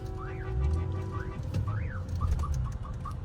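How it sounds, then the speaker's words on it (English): A car siren wails, sweeping up and down in quick repeated swoops over a low rumbling background, with short chirping tones toward the end. "put the siren on"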